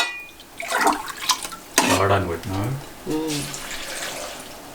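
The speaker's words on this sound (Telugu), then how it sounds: "ఒక గ్లాస్ వాటర్ పోసేస్తా" A glass of already-hot water is poured into a broad bean and tomato curry, a soft splashing pour heard close beside a speaking voice.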